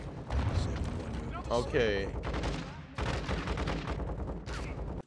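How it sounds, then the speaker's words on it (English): Gunfire rattles in Call of Duty MW2's campaign, bursts of shots and game effects under a player's frequent talking, with a brief tonal sweep partway through. "Wait, where is that shooting?"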